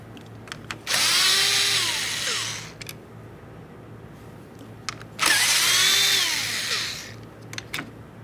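A power tool drives out the 8mm window motor mounting bolts on a 2015-2020 Ford F-150 door, in two loud sustained whirring bursts of about two seconds each, separated by quiet clicks of handling.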